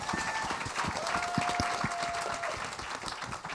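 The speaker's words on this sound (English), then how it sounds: "Give her a round of applause." An audience at a talk on the history of LA ska applauds steadily for several seconds, with dense clapping and no voices.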